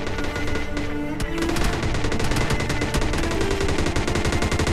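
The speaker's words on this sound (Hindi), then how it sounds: "सेंटर रोड से फायरिंग का साउंड आता है भाई" Sustained gunfire crackles from the center road in PUBG Mobile Lite, a dense run of rapid automatic shots that keeps up loud and steady throughout, with no talking over it.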